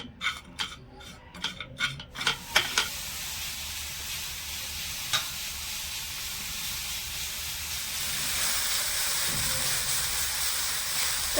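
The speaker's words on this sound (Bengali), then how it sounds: "এবারে ভালো করে নেড়ে চেড়ে একটা পাক দিয়ে নেব গুড়টা গলিয়ে নেব আর নারকেলটাও ভাজা ভাজা করে নেব" Grated coconut and palm jaggery (patali gur) are stirred in a pan as the jaggery melts: a few quick scraping strokes at first, then a steady, soft sizzling hiss that grows slightly louder toward the end.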